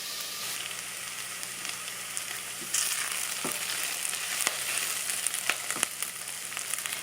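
Chopped onions sizzle steadily in a pot as the base for shrimp bisque, a soft continuous frying hiss with a few faint clicks and no voices.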